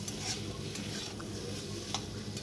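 Vegetables and spices, okra among them, are sautéed and stirred in a pan in a village kitchen: a steady hiss of frying with occasional light scrapes and clicks of the spoon, and no voices.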